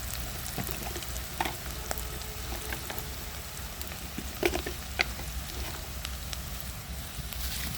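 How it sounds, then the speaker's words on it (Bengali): Onion, ginger, garlic and bay leaves fry in a pan in a steady soft sizzle and crackle, with a few faint clinks and stirring taps. "এখন পেঁয়াজ আদা রসুন তেজপাতা সবগুলো ভালো করে একটু লাল লাল করে ভেজে নিব।"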